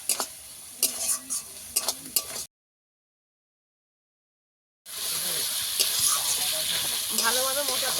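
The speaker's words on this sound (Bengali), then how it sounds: "এবারে ভালো করে কষিয়ে নেব" Spices and cumin paste sautéing in oil in a pan for a fish curry, a close sizzling hiss with scraping stirs, cutting out briefly to silence before the frying resumes louder and steady.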